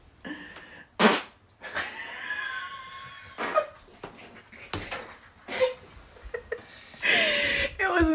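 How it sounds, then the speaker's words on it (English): A young woman farts several times, with short bursts and a few longer raspy blasts scattered between breathy noises and background sounds. "getting ready to fart right now."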